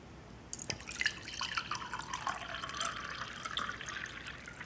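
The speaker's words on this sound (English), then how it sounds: "demonstrate pouring the water and how the spout goes about" Water pouring from the spout of a Bormioli Rocco Frigoverre glass jug into a container, a soft steady trickling stream with a few drip-like splashes, faint and close with no talking.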